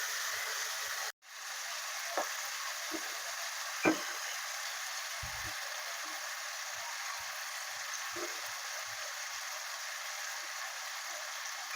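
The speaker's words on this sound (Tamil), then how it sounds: "வெங்காயம் வந்து நல்லா வதங்கி வரட்டும்" Onions sauté in oil with a faint, even hiss of sizzling, broken by a few soft clicks and taps of stirring.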